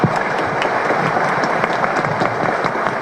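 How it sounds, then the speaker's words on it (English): Sustained audience applause at an honorary doctorate ceremony for Lisa Su at National Yang Ming Chiao Tung University, dense and steady clapping from a large crowd filling the whole stretch with no talk over it. "Let's give Lisa and all the students a big round of applause."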